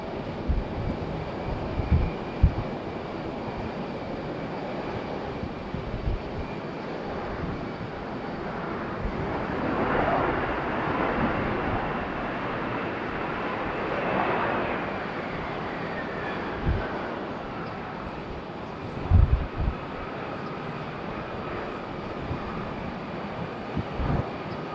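An Air Canada jet taxis at Raleigh-Durham airport, its engine hum rising to a soft swell and a whine that slides down in pitch, set against faint, distant background noise with occasional thumps.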